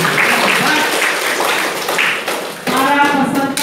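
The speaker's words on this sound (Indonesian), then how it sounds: "Tepuk tangan sekali lagi." Applause from a group of student participants at a junior high school student council leadership training session, a dense patter of clapping with voices over it that gives way to a steadier, brighter burst of clapping near the end.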